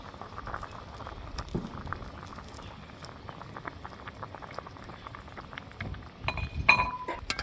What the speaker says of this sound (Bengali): এতে বলক এসেছে